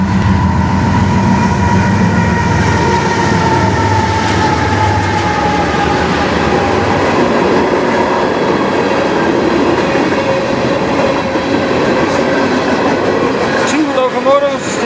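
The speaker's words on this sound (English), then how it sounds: "that was a monster train." Long freight train with two locomotives rolling past at close range, a continuous loud rumble of wagons with rhythmic wheel clatter and faint squeals, steady throughout.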